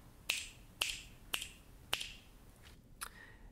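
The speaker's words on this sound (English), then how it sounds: "make a sound by snapping our" Fingers snap four times in a steady rhythm, each a sharp, crisp crack, followed by a couple of softer, weaker snaps, recorded close in a quiet room with no talking.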